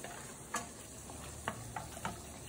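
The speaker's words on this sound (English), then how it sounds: "I can hear my risotto cooking" Risotto simmering in a pan with olive oil, broth and wine, giving a faint, soft bubbling sizzle with a few light ticks and stirs, quiet and steady with no voices.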